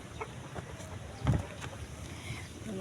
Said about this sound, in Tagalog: Sobrang lakas yung hangin dito.